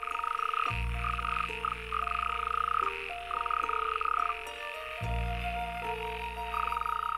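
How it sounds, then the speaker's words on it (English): A chorus of frogs croaks loudly and nearby, deep pulsing calls overlapping with higher trilling voices in a continuous rhythmic din. "They will spend 1 or 2 weeks croaking, waiting for a continuous line of females to approach their noisy pond."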